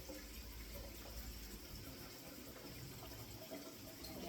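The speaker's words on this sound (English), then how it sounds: "Then I pour out my tea." Tea is poured from a pot into a cup at home for breakfast without a strainer, a soft, continuous low liquid stream heard faintly and close.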